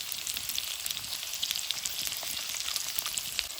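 Onions, capsicum and spices fry in a pan for village-style veg Manchurian, a steady close crackling sizzle with fine popping spatters continuing evenly throughout.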